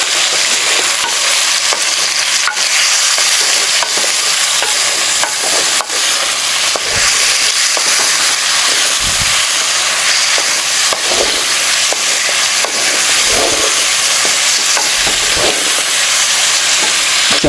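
Boneless chicken jalfrezi sizzles loudly in a pan while a spoon stirs and scrapes through it, with a steady frying hiss and intermittent clanks and scrapes close up, and no talk.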